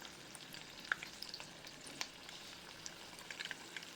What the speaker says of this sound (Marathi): त्यामध्ये आता हे हळूवारपणे हे सगळे बॉल्स हळूहळू सोडूया.